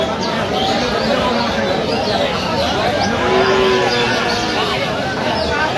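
A Sahiwal cow lets out a low, drawn-out moo amid the steady hubbub of a crowded livestock market in Aftabganj, with people talking around.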